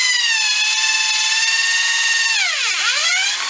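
A power drill bores a mouthpiece hole into a goat horn, a steady high whining motor tone held close and loud, then dipping sharply in pitch near the end as the bit bites before rising again.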